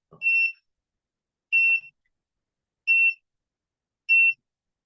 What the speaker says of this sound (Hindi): वो अलार्म वहां से उसी टाइम पे बजर दे दिया